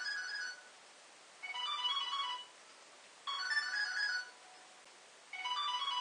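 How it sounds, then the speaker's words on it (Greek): A mobile phone ringtone sounds for a mother's incoming call, playing in three loud, repeating melodic bursts separated by short pauses, with no talk over it. "Όλη την ώρα η μάνα του στο τηλέφωνο."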